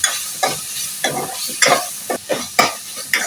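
Thinly sliced garlic sautés in a hot pan, a soft sizzle running underneath as a spoon stirs and scrapes it in repeated quick strokes, roughly one every half second.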